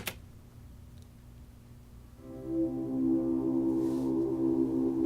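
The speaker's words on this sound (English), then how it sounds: "did some really ethereal electric guitar" After a near-silent start, ethereal electric guitar tones swell in and ring out as a sustained, shimmering chord with no steady beat.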